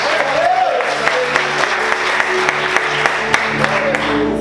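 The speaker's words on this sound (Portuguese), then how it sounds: "Aplaude, glorifique e exalte Jesus. Mais forte as palmas, amém, queridos?" A church congregation at a Portuguese-language service applauds steadily, a dense wash of clapping with a few sharper claps standing out, and a voice briefly rising above it.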